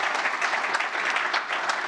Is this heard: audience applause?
yes